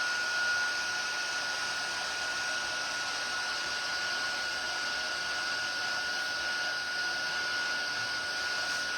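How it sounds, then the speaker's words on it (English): A heat gun blows hot air for heat embossing in a steady, loud, close whoosh that holds evenly throughout without a break, with no talk. "let's use my heat gun"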